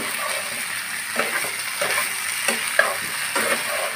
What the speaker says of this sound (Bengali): এটা 5-7 মিনিট ভেজে নিব।